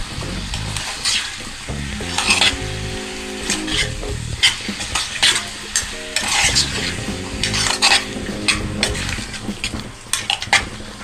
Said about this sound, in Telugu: చికెన్ వేసిన తర్వాత దీంట్లోకి సాల్ట్ టేస్ట్కి సరిపడా వేసి కలుపుదాం